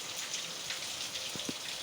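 Heavy rain falls steadily in a village setting, a dense continuous hiss with a few brief louder drips or splashes near the end, no one speaking.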